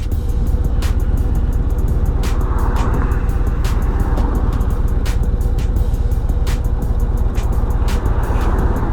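2024 Harley-Davidson Road Glide with a redesigned fairing riding on the highway, a loud continuous rush of wind and engine drone with sharp ticking and buffeting noises recurring throughout.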